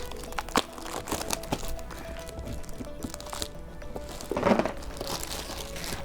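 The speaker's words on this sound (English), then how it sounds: "There's some stuff rustling around in it." Contents shifting and rustling inside a sealed, slightly crushed Windows software box as it is handled, with soft crinkles and scattered light knocks and thuds, close and moderately quiet.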